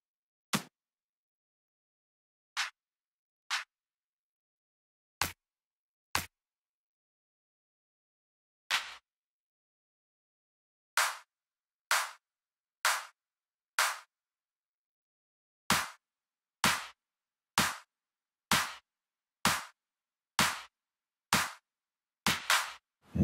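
Layered clap samples in FL Studio played one after another, sharp bright snaps that start sparse and irregular, then repeat in quicker even runs, dry and isolated with silence between hits.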